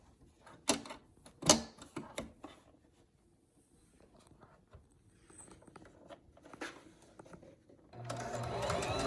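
A sewing machine stitches fabric for a face mask, with short mechanical bursts and handling rustles between them, then a sustained whirring run of stitching at the end, close and clear.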